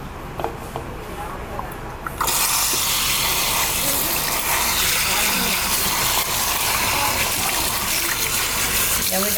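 Water gushes loudly and steadily, rinsing hair during a perm after a short quieter start, and a voice talks over the flow.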